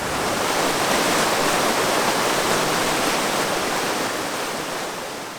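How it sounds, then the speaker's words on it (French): Sulfur-laden spring water at 24 degrees flowing beside a river, a dense, steady rushing wash close by that fades slightly at the end. "C'est une source d'eau qui sort à 24 degrés et qui est chargée en soufre."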